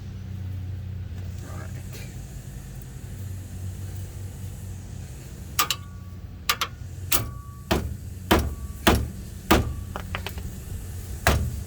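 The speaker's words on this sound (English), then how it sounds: "I'm going to hit it with the hammer too, and it should break it off." After a stretch of low engine-like rumble, a hammer strikes a wrench on a 1999-2006 Chevrolet Silverado torsion key, sharp metallic strikes ringing out, irregular at first then repeating in quick succession.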